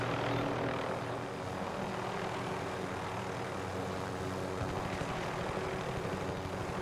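A helicopter flies overhead in a multiplayer shooter video game, heard as a steady loud rotor and engine drone that fills the whole stretch, with no voices over it.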